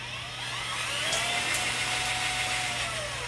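A spin art machine whirs steadily at speed, a continuous motor drone with a low hum, close and moderately loud throughout, with no voices.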